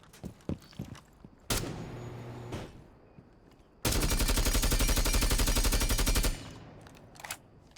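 Rapid automatic gunfire in Rainbow Six Siege: a short burst near the start, then a longer sustained volley of sharp shots, with scattered single cracks and footsteps in between.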